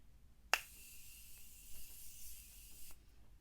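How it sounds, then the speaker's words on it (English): Morphe Continuum Mist setting spray is sprayed on a face: a sharp click, then one continuous close hiss lasting about two and a half seconds that cuts off abruptly, in a quiet room. "I'm about to spray my face with this now"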